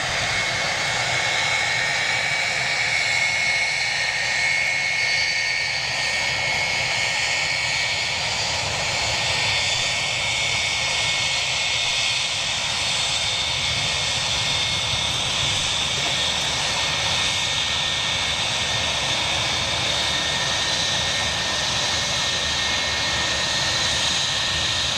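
Jet engines of an Ilyushin Il-76 transport aircraft roar steadily and loudly for the whole stretch, a constant broad whine and rumble with no breaks and no voices.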